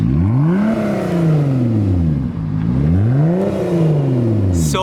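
Lotus Evora S with a straight pipe exhaust revving loudly and close up, the engine note climbing and falling in two long sweeping rev cycles with a dip between them.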